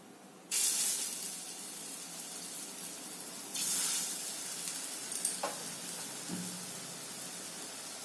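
Small shrimp fritters (bora) fry in a pan of oil. Each batch of batter hits the oil with a sudden loud sizzle that settles into a steady, fairly faint crackle, followed by a few light clinks, and no one talks.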